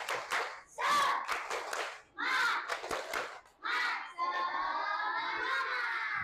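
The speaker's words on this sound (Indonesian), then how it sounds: "coba kita tepuk semangat." A class of fifth-grade schoolchildren performs a rhythmic spirit clap chant in bursts of shouting and clapping, ending in a sustained group shout.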